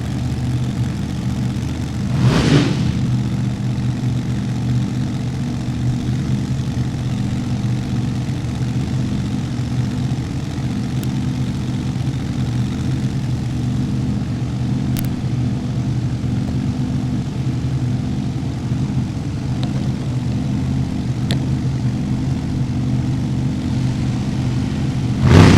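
Supercharged and Pro Charged drag racing cars roar at a Topeka drag strip, a loud steady engine drone filling the whole stretch with a brief sharper burst near the start and no talk.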